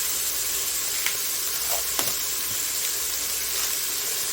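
Ground mild sausage dropped into a pot of simmering cabbage soup, giving a steady close sizzle and bubbling hiss with a few soft clinks and stirring scrapes, no voices.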